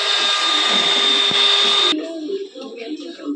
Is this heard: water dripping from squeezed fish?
no